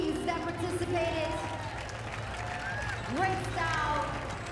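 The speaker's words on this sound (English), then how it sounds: "let's get a round of applause for all the teams that participated." Crowd applause for charity pro-am race teams, a steady wash of clapping and cheering at moderate level, with voices and whoops rising over it.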